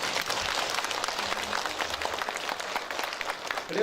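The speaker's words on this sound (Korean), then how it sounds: "박수 한번 쳐주세요." Audience applause fills a general meeting of the Ansan Bugok-Wolpi regional housing association, a steady, dense patter of many hands clapping at moderate distance for about four seconds with no speech over it.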